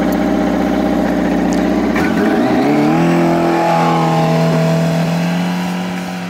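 A 280 HP Yamaha RX1 snowmobile engine accelerating, shifting from a steady idle into a loud rising whine that climbs in pitch and holds at high revs close by before easing slightly.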